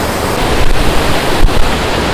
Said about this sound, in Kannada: ಅಲ್ಲಿಂದ ನೀರು ಬಂದು ಹೀಗೆ ಕೆಳಗೆ ಧುಮ್ಮುಕ್ತಾ ಇದೆ